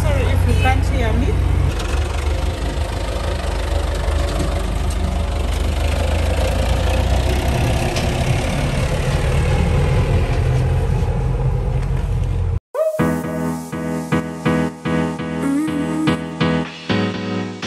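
A snow removal vehicle's engine runs outside in a steady low rumble that cuts off abruptly near the end, replaced by music.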